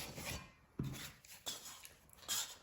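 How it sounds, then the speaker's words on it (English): Sticky bread dough for potato buns is scraped down, giving quiet, irregular rasping and rubbing strokes with a few sharper scrapes. "So you just want to scrape it all down."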